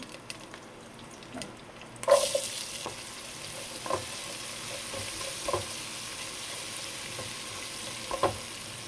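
Onion and garlic frying in a pan for chicken fried rice, a soft steady sizzle with occasional stirring clinks and scrapes, fairly faint and without talk.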